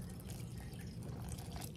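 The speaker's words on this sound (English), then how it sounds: "we are going to pour cool water over it just until all the vegetables" Cool water pours over chopped zucchini relish vegetables in a kitchen while canning, a steady, fairly soft rushing and trickling stream that continues without a break, with no talking.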